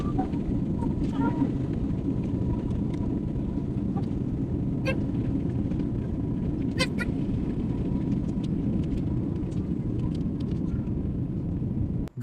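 A passenger airplane on a Hyderabad to Vizag flight begins its takeoff run, heard from the cabin as a steady heavy engine rumble with faint background voices.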